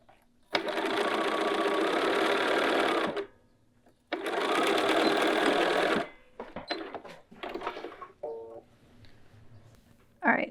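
A home sewing machine stitches a gathered skirt panel in two long steady runs of about three and two seconds, then a few short bursts of stitching with handling noises between, close and clear with no talk.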